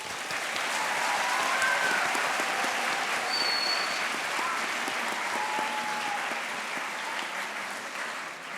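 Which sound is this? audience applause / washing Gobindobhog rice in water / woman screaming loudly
audience applause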